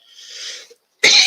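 A person coughs alone: a breathy, drawn-out cough is followed after a short pause by a loud, sharp burst, close to the microphone with no talk over it.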